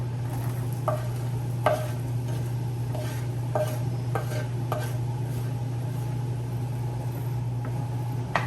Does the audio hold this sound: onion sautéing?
yes